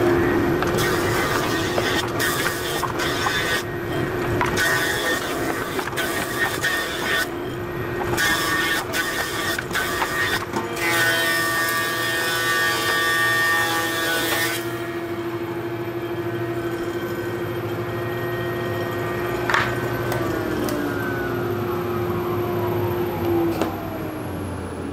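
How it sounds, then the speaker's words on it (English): A thickness planer runs continuously, flattening wooden boards to a uniform thickness for a cutting board, with a loud steady machine roar and repeated pass sounds as the boards feed through. "now he's putting that flat side downward on the bed of the planer and getting them to uniform thickness and flatness"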